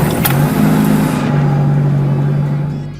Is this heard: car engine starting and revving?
yes